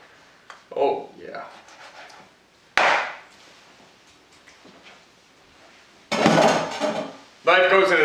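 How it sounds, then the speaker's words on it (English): Sharp chopping thuds of a cleaver striking through pork back ribs on a board, irregular and loud, mixed with clattering kitchen noise. "Just keep on chopping."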